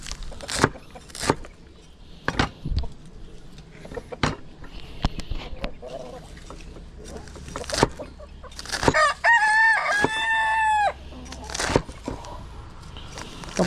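Backyard chickens cluck in short scattered bursts near and far, and a rooster crows once clearly in the middle, with faint background noise throughout.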